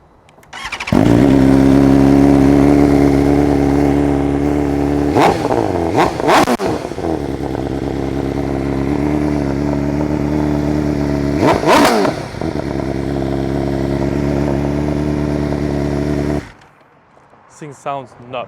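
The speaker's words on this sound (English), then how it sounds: "So I guess now we'll just start off the bike for you guys" A 2024 BMW S1000RR sport bike fires up and settles into a loud, steady idle, broken by two sharp revving bursts partway through before the engine cuts off near the end.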